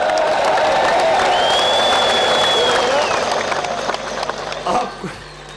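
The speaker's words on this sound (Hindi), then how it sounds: "आपने इसके ऊपर इतनी कम ताली बजाई है।" A crowd applauds and cheers during a prime minister's speech, a loud dense wash of clapping with whistles and shouts on top, dying away over the last couple of seconds.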